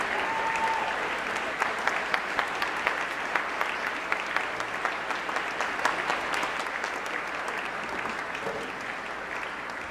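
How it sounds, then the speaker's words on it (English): Audience applause after a school spring orchestra concert: sustained, even clapping from a large crowd, with a few sharper individual claps standing out near the start, steady and moderately distant. "So let's give everybody a big round of applause."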